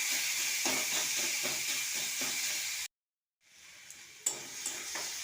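Boiled elephant apple being stirred and mashed in a wok, a rhythmic scraping and squelching with a faint sizzle, cut by a brief silent gap before the stirring resumes.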